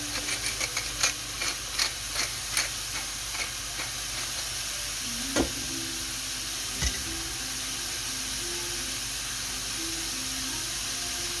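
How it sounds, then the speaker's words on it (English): Food is stirred in a hot pan, with a few quick scraping taps near the start and then a steady sizzle and hiss of frying throughout, heard up close with no talking. "We're going to go ahead and give that a good stir."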